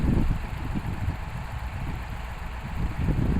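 A Bizon tractor engine runs steadily close by, a low rumbling idle with slight swells in loudness and no voices over it.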